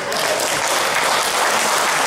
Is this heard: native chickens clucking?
no